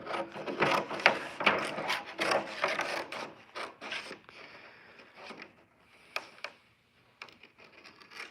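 An Epson 24-inch DTF printer runs a nozzle check, giving off rapid mechanical rubbing and clattering bursts, busiest and loudest at first, then thinning into sparser clicks and shuffles, close up and without talk.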